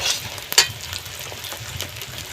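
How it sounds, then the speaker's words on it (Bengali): Spice paste frying in oil in a pan, a quiet steady sizzle with a low bubbling rumble and one brief sharper crackle or stir near the start. "মশলাটাকে আমি খুব ভালো করে কষিয়ে নেব"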